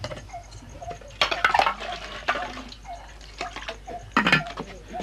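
Water splashes and trickles into a cup for a drink in a home, with a few clinking bursts and gentle pours spread over several seconds, close and moderately loud.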